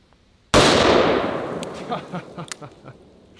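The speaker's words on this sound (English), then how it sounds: "try the Smith & Wesson 500 Magnum" A single booming gunshot from a Smith & Wesson 500 Magnum revolver, fired near and loud, with a long decaying roar and echoing reflections trailing off afterward.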